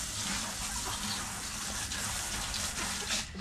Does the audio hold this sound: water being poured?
yes